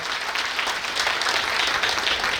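A crowd at a retirement function in a hotel hall keeps up loud, continuous clapping, an even rush of many hands throughout.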